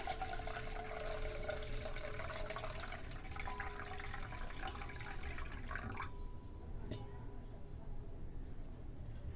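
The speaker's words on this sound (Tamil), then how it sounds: "3வது கழுவுற தண்ணி இதில் சேர்த்துக்கணும்." Water pours from a container into another vessel during rice washing for soap making, a steady liquid trickle and splash that stops abruptly partway through, with faint background noise afterward.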